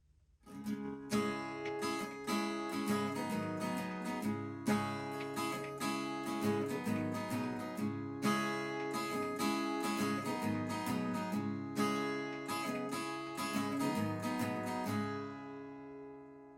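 Strummed acoustic guitar with a capo playing an intro, bright ringing chords in a steady rhythm, alone and close, fading out at the end.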